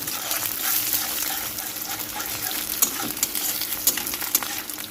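Onions fry with bay leaves in a pan for a spicy red chicken curry, a steady close sizzle with occasional scraping knocks as they are stirred.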